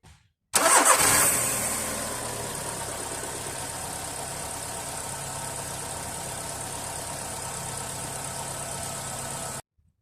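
Volkswagen Polo engine cranks and fires up with a loud burst, settling into a steady, even idle hum that runs unbroken for several seconds before cutting off abruptly.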